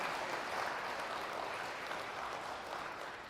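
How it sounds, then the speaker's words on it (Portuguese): A church congregation claps steadily, a dense, even wash of applause that stays loud and unbroken throughout, with no clear voices above it. "dá uma salva de palmas para o Senhor Jesus"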